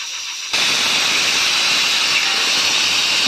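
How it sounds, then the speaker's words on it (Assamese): A pressure cooker boiling jackfruit seeds lets out a sudden, loud steam whistle after a brief quiet moment, then keeps up a steady, harsh hiss to the end. "মই 2-3টামান হুইচেল দি পেলাই কুকাৰত।"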